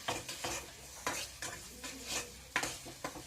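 A spoon scrapes and stirs chowmein masala in a hot pan, several distinct strokes over a soft sizzle, close and fairly quiet.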